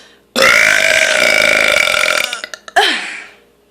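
A long, loud, drawn-out burp rolls on for about two seconds, then breaks into a few short gulping bursts and a final croaking belch that fades out.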